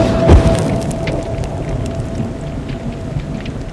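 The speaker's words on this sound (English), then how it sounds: "Suddenly, there was an almighty clap of thunder." A heavy storm with a deep rolling rumble of thunder that swells early and then fades into a steady wash of rain noise. It is loud and continuous, with no talking.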